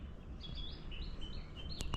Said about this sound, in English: Birds singing